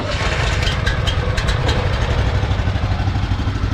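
A BCS walk-behind tractor's small engine, started with a key, idles at a steady low chugging rumble, close and continuous with no one talking over it.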